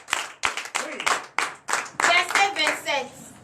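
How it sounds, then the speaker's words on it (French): A church congregation claps during a Sunday service, with sharp, spaced hand claps that merge into denser applause, and voices calling out over it. "Que je vous demande d'applaudir très fort."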